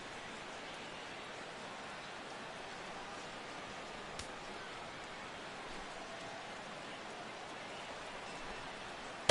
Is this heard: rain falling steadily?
yes